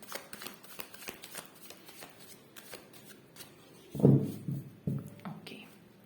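Tarot cards are shuffled by hand in a rapid, close riffle of soft flicks, with a quiet voice speaking over the end.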